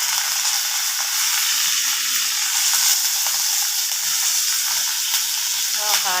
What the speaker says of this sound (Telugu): కరివేపాకు కూడా వేసుకుందాము, ఇట్లా చించి వేసుకోవాలి.